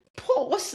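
A single sneeze, close and fairly loud, a short sharp burst of breath with voiced onset, heard briefly during a podcast conversation.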